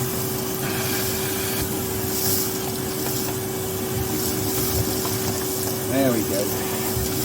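A hoover vacuum cleaner runs steadily throughout with a constant hum and broad whooshing noise, while someone speaks briefly near the end.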